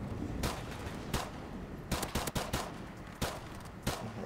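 Pistol shots in Modern Warfare Remastered Gun Game, a series of sharp, separate cracks spaced irregularly, some in quick pairs, over a steady game background.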